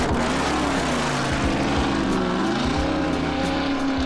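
A 1969 Bud Moore Boss Mustang race car engine roaring down a straight, a loud continuous V8 drone with rising and falling pitch as it pulls through gears, close and constant.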